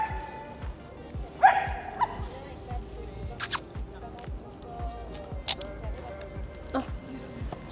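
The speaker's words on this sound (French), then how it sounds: "il y a des petits chiens" Small dogs give a few short yips and barks at a distance while someone talks nearby, the barks coming irregularly over a faint, steady background.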